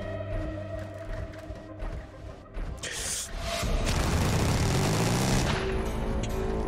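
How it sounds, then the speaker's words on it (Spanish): Creature's machine gun in the video game Carrion, rapid bursts of gunfire with booming impacts that build into a dense, sustained roar of shooting. "la verdad es que mola bastante el sonido de la ametralladora del bicho este"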